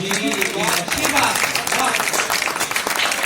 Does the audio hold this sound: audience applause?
yes